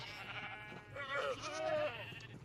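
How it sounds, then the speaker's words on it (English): Sheep bleat in TerraFirmaCraft, a Minecraft mod, with a couple of wavering calls close together in the second half over a steady game background. "And sheep. A lot of sheep."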